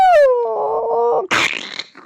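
A person's voice imitates a creature howling in pain, a long descending wail that drops into a strained groan, then breaks into a harsh, noisy snarl, alone and close up.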